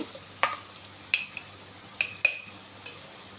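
Potatoes with turmeric, salt and ginger garlic paste are stirred in a pan: a handful of sharp metallic spoon clinks and scrapes at irregular moments over a faint sizzle, close and without talk.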